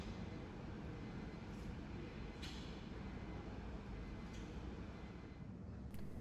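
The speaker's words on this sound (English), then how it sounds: "now on a train to Marrickville" Sydney Metro area train riding toward Marrickville, heard from inside as a steady low rumble with constant rolling noise, a high whine, and a few faint metallic clicks from the track.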